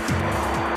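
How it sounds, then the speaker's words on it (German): Formula 3 eco race car running on fuel from potatoes and carrots, lapping a track at over 210 km/h: a short, loud engine note rising and falling as the car passes close by. "Hier dreht der Biobrenner mit über 210 km/h Spitze einsam seine Runden."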